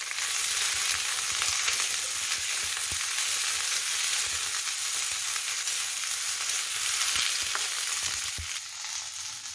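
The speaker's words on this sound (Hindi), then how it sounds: "प्याज और शिमला मिर्च हमारा भून के तैयार हो गया है" Onions and bell peppers fry in a pan for paneer chilli, giving a loud, steady sizzle that holds evenly throughout with faint stirring clicks and no talk.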